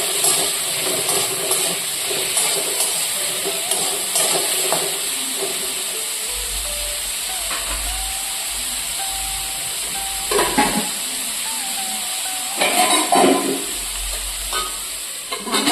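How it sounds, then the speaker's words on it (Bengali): Potatoes fry lightly with salt in a pan, giving a continuous moderate sizzle and hiss. Occasional scraping stirs and a few louder bursts of spatter break it up, and nobody talks. "লবণ দিয়ে একটু আলু ভেজে নিব হালকা।"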